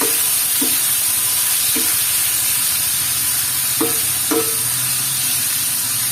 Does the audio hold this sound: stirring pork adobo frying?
yes